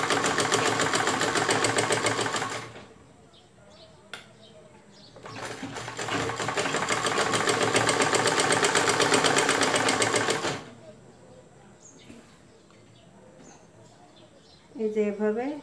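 A sewing machine stitches the zippered side of a cushion cover, running in two long, steady, close bursts with a quiet stretch of handling noises between them.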